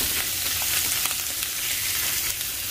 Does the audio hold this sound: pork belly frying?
yes